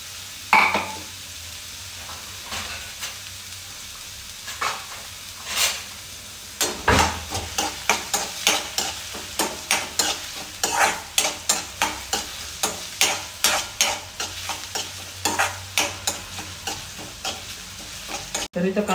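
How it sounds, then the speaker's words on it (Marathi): Onion frying in hot oil with mustard seeds on a lowered gas flame, a steady sizzle broken by a rhythmic series of close spoon stirs and scrapes in the pan, with no talking. "तर मग आता ह्याच्यात तेलात मोहरी टाकली आहे आणि आपण आता टाकू कांदा."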